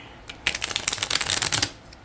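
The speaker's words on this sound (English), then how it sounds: "So yeah, so these definitely do shuffle." A mini tarot card deck is shuffled once close up, a quick riffling flutter of cards lasting a little over a second, with no talking over it.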